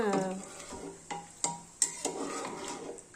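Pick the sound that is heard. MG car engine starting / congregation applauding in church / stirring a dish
stirring a dish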